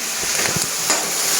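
Cashews and raisins frying in oil in a home kitchen pan, a steady close sizzle with a few soft stirring scrapes and crackles, no talking.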